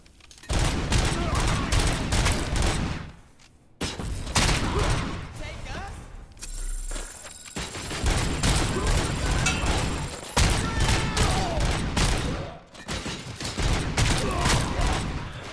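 Video game gunfire in dense, loud bursts of rapid shots, fired close up with short pauses between volleys.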